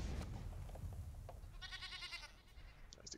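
An Escape Goat card in a digital card game gives a short, bright goat bleat with a wavering, repeated pulse. It sits clear over a quiet background hum.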